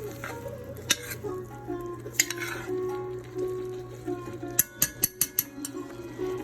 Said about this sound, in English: let this simmer down